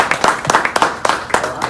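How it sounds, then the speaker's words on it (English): Applause from the audience at a Rotary club meeting, a short burst of hand claps with uneven rhythm, close and fairly loud. "if you would please give him a rousing applause and thanks."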